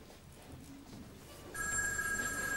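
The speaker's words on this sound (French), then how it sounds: "Il commence à m'énerver celui-là avec sa sonnerie." A telephone bell starts ringing abruptly partway through, a bright, sustained electric ring over a quiet room background, fairly loud and alone.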